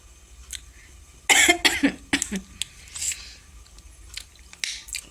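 A few harsh coughs burst out close by, then trail into smaller throat-clearing sounds and breaths over a quiet background.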